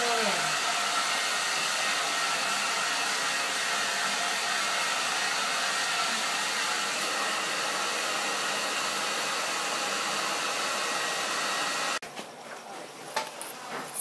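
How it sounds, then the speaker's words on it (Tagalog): A hair dryer blows steadily and loudly at close range for about twelve seconds, then cuts off, leaving faint room noise and small handling sounds. "Ayaw ng blower."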